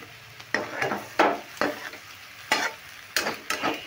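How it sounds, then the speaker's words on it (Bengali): Pea greens with spring onions frying in a wok, with sharp scraping stirs of the spatula striking at irregular intervals over a soft sizzle, close and moderately quiet. "দেখো কত তাড়াতাড়ি এই মটর শাক পেঁয়াজ কলি দিয়ে ভাজা হয়ে গেল।"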